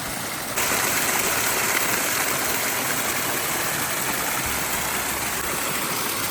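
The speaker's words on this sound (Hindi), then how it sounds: "यहाँ से पानी जा रहा है" Irrigation water rushes steadily along a field channel on a hillside farm in Himachal, a loud continuous broadband flow that keeps going without a break.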